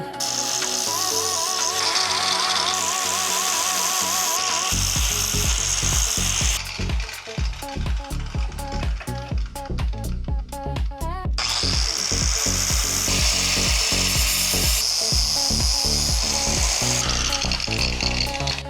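An angle grinder bevels the sides of a metal offroad buggy frame for a weld repair, giving loud, sustained harsh grinding with shifting pitch and brief gritty pulses through the middle as the disc works the edges.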